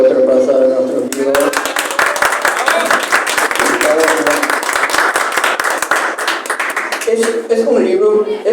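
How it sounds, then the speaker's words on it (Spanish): Book-presentation audience at FIL 2024 breaks into loud, sustained clapping that lasts several seconds, with a speaker's voice before and after the burst. "Merece otro aplauso de nuestro libro."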